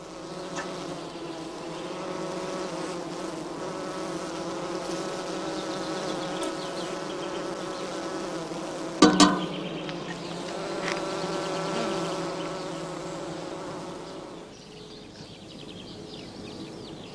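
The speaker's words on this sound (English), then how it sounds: "The bees are busy feeding their brood." A dense, steady drone of many bees buzzing close by around skep hives in a heather apiary, continuous throughout with a brief sharp knock partway through.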